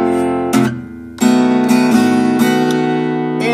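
Acoustic guitar chords of a song strummed in a steady rhythm, bright and close, several strums ringing out one after another.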